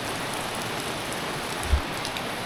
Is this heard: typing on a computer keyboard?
no